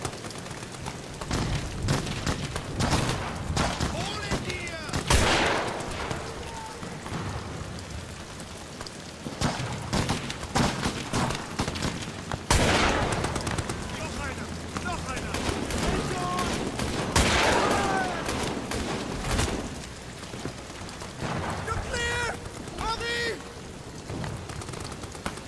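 Repeated bursts of gunfire from the horror game Amnesia: The Bunker, sharp loud shots scattered through dense noisy rumble, with a few close cracks standing out.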